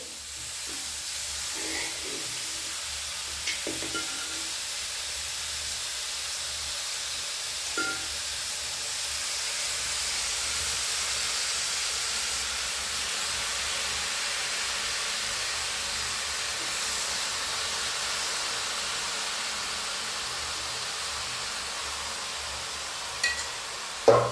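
Chicken sautéing in masala in a pan for a Kerala-style chicken curry: a steady, continuous sizzle and hiss with occasional faint clinks of stirring, close by and fairly even in loudness throughout, with no talk.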